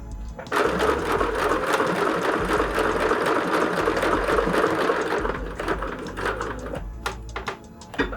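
A sewing machine runs steadily for about seven seconds, stitching a pocket back onto a large clutch bag, with a continuous mechanical whir and rapid needle rhythm that slows and stops near the end; no one speaks.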